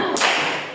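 One crisp group handclap from a class of students, loud and close, with a short ringing decay in the room.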